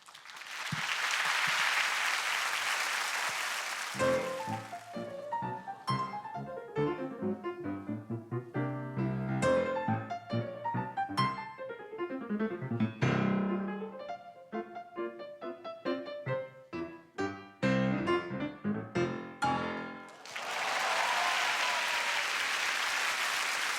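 A studio audience on a Korean music talk show applauds loudly at the start and again at the end, with a stretch of improvised instrumental music playing between the two bursts of clapping.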